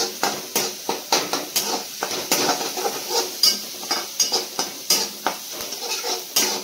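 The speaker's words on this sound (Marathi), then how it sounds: "आपल्याला चांगला परतून घ्यायचं आहे" Finely chopped onion sautéing in a pan, with a steady rhythm of spoon scrapes and clacks against the metal over a soft sizzle, close and fairly quiet.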